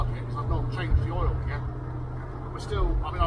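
Triumph Stag V8 engine idling at 1500 RPM, a low steady rumble heard up close beneath someone talking.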